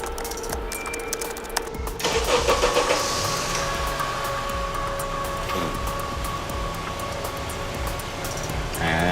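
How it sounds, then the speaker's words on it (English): A car engine started remotely through a hacked unlock command in a parking lot turns over and settles into a steady mid-pitched idle that runs on continuously, fairly close, with no talk. "You could start and stop the engine from the other side of the parking lot"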